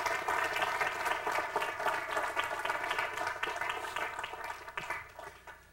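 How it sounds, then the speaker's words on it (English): Audience applause for behind-the-scenes workers at a common law advocacy talk, a dense, steady wash of clapping from a crowd that holds evenly and then tapers off toward the end. "please let's give some applause to all those people that work behind the scenes"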